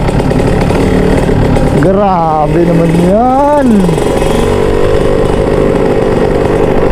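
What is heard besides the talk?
motorcycle engine revving through a Chon Pipe racing exhaust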